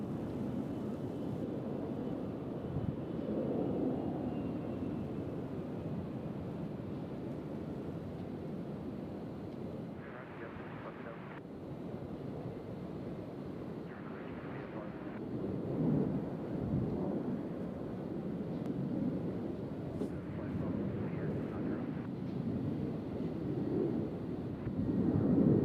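Jet aircraft departing Louisville UPS World Port, a broad, distant rumbling roar that holds steady and swells slightly over a long stretch, heard outdoors with light wind.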